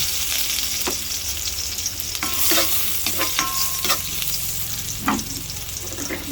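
Food sautéing in a smoking-hot wok for a home-cooked lunch: a steady, loud sizzle with scraping stir strokes and utensil clinks throughout, no talking.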